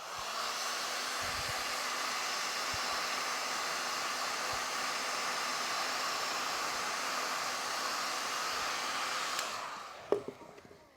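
Heat gun blowing a steady, loud hiss of hot air to warm a silicone protector on a Dualtron Mini electric scooter, running continuously before cutting off with a brief clack.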